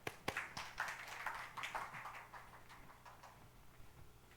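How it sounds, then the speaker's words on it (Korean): A church congregation at a Sunday service claps, scattered sharp claps building into a brief, fairly faint round of applause that thins out toward the end. "박수"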